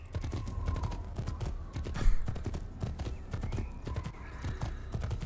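Hooves clip-clop in a steady galloping rhythm as a horse is ridden in Assassin's Creed, with an occasional neigh rising over the close, continuous hoofbeats and game ambience.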